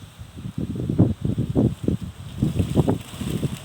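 Strong outdoor wind buffets the microphone in repeated low, rumbling gusts that rise and fall irregularly and stay loud and close throughout, with no voices.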